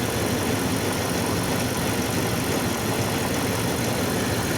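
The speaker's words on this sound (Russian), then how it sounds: "думал, что тут стучит двигатель, чуть-чуть слышно" A car engine idles with the hood open, a steady, dense mechanical hum close up, and a faint knock is buried in it that is barely noticeable.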